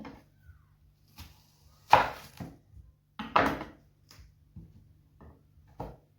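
A single onion is sliced into thin strips on a board, a sparse run of sharp knife chops with uneven pauses between them, close and clear, no talking.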